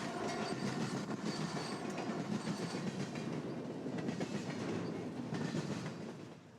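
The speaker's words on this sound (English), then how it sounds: "CP, for example, powers most of its coal trains with newer General Electric AC 4400 CWs." CP coal train hauled by General Electric AC4400CW locomotives rolls past in a canyon, giving a steady wash of rail noise with rhythmic clickety-clack from the wheels that fades slightly at the end, with no voices.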